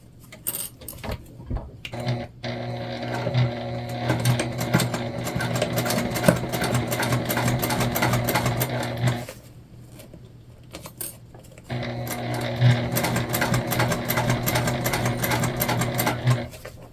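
A sewing machine top stitches a bag an eighth of an inch from the edge, running in two long steady whirring bursts separated by a brief pause, with light clicks and handling noises around the starts.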